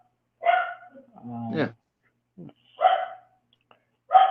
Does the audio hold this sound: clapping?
no